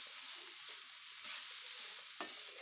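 A steady, soft hiss of vegetables sautéing in a pan over medium-high heat, continuous and fairly faint, with one brief clink or scrape near the end.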